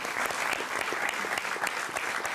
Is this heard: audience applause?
yes